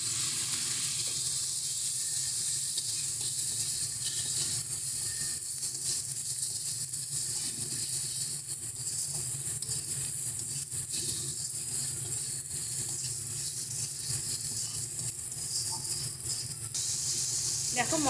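Chopped tomato tipped into hot oil and spices for a home-style vegetarian paneer curry, giving a loud, steady, unbroken sizzling hiss that holds evenly for the whole stretch.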